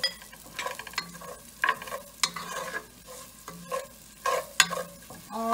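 Tomatoes and two tablespoons of red chili sizzle in a hot pan while a spoon stirs them, giving close, uneven scraping strokes over a soft, steady frying hiss. No one speaks.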